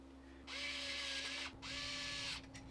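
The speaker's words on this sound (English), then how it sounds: "let's get these screws in" Small electric screwdriver driving screws into a game controller's thumbstick assembly, two close whirring bursts of about a second each, separated by a short pause, over a faint steady hum.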